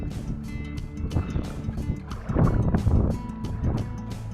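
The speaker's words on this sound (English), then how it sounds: "that wind is brutal." Strong wind gusts roar into the microphone while paddling a small boat around a coastal headland, with water sloshing and knocks against the hull, loud and close with no talk.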